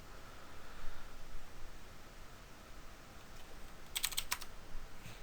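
Keystrokes tapped on a computer keyboard while entering network switch configuration commands, a quiet steady hiss with a short cluster of crisp clicks near the end.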